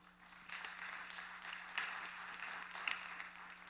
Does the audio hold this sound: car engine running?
no